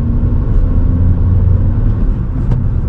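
A car engine pulling steadily through the gears, second gear climbing quickly toward 3000 RPM, a loud continuous rumbling drone heard from inside the car without a break.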